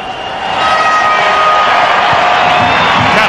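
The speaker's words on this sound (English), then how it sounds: "Give yourself a big round of applause." A stadium crowd roars and cheers at a 1994 Canada versus Brazil friendly football match, a dense, loud, sustained wall of noise that swells in the first half-second and then holds steady.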